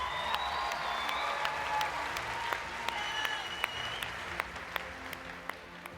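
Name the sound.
applause at a cosplay contest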